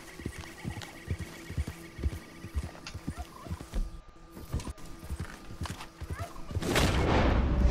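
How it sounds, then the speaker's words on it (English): Turkeys in the video game Red Dead Redemption 2, gobbling and clucking in short bursts amid hoof clip-clop steps and rustling, with a louder rush of noise near the end. "Little birdie chickens."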